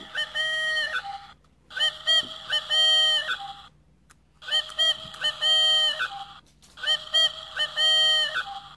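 A motion-activated Dollar Tree toy owl plays electronic honking, hooting bird calls in three repeated synthetic bursts with short gaps between them. The sound is close and loud, with no voices.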